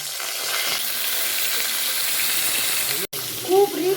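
A hilsa fish tail fries in hot oil, giving a loud, continuous sizzle close by with a short break near the end, followed by faint clinks.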